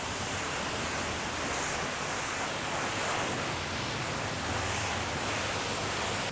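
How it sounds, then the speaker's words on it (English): Water sprays steadily to rinse soap off a car during a detailing wash, a loud continuous hiss of rushing spray close by with no pauses and no voices. "and rinse all the soap off"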